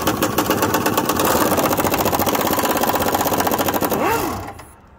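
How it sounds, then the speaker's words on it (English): A power tool runs hard while ripping a hot bolt out of a 2020-2022 Ford Powerstroke truck, a loud, fast buzzing rattle at a steady pace that winds down at the end, close to the listener. "I'm going to try ripping this bolt out and see how well it's going to come out."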